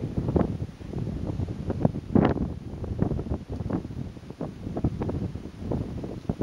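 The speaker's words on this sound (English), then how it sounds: "Wind's starting to pick up." Wind gusting around the microphone while descending from Mount Langley toward Army Pass, a steady rumbling buffet with uneven swells and brief louder blasts, close and continuous, with no voices.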